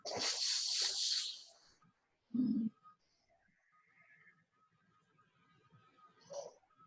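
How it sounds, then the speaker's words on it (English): A long, hissing ujjayi yoga breath through a narrowed throat opens the clip, followed by a short huff and faint, quiet breathing sounds afterward. "it sort of sounds like the ocean in the back of your throat."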